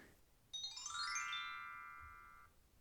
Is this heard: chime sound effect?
yes